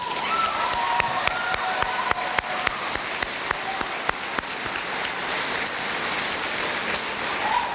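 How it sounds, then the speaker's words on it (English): An audience at a 2019 school graduation ceremony applauds the faculty, a steady wash of many hands clapping with a few sharp, distinct claps standing out near the front, fading toward the end. "let's give our faculty a round of applause"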